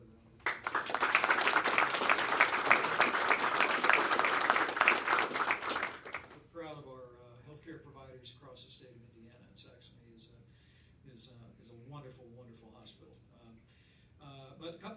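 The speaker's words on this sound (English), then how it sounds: "So let's give them another round of applause." An audience at a highway construction kickoff event applauds loudly for about six seconds, a dense burst of clapping that then stops and gives way to someone talking.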